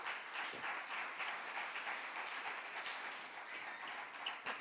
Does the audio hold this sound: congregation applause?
yes